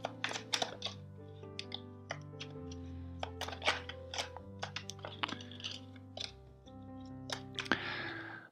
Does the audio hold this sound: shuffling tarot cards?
yes